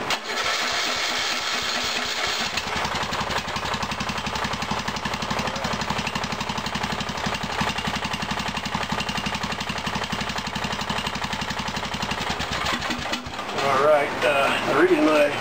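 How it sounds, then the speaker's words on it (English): A Briggs & Stratton 17.5 Intek engine with a broken choke cranks and fires, then runs at a loud, steady, rough idle close by before the throttle changes near the end. "I'm gonna see if it'll start without a choke."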